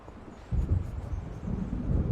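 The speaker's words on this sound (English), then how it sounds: "It seems there's a storm coming." Low, rumbling thunder from an approaching storm in the Alan Wake video game swells after a quiet start and rolls on steadily, deep and continuous with no voices.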